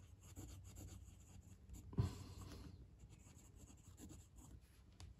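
A Eureka Symmetry fountain pen with a steel number 6 Bock medium nib writes on paper, a faint, continuous soft scratching with one brief louder scrape near the middle.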